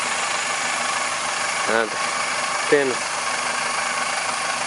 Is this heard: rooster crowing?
no